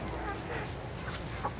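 A chicken clucks briefly in a backyard among other fowl, faint short calls over steady outdoor background noise.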